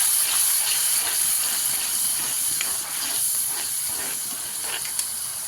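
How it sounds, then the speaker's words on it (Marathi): Tomato and onion roast in a pan over a low gas flame for a Kolhapuri egg curry, giving a steady, close hiss with faint scraping taps from stirring throughout, no voices. "करून घेतलेलं टोमॅटो आणि कांदा टाकून घेऊया लाल होईपर्यंत ह्याला भाजून घेऊया"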